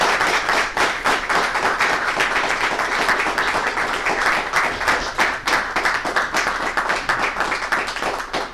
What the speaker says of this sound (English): If everyone could just give them a round of applause.